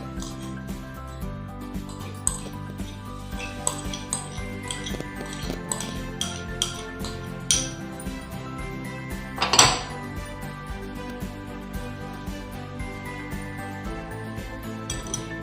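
Cheese and butter mixed in a bowl for cheese shankarpali dough, giving a run of quiet clinks and soft taps of a utensil against the bowl, with one louder scrape near the end and no talking.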